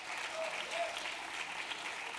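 An audience at the Manhattan Borough President's State of the Borough address breaks into steady applause, a dense wash of clapping filling the hall at even loudness, with no speech over it.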